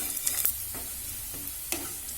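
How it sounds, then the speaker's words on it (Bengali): Garlic frying slowly in a pan, a soft steady sizzle with a few sharp scraping stirs and clicks of the utensil. "রসুনটা ভাজা হয়ে গেছে"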